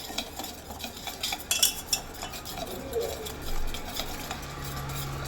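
Gram flour batter with salt and cumin-coriander being stirred for Gujarati kadhi, a steady soft scraping and swishing with light clinks of a spoon against the vessel, close and continuous with no talk.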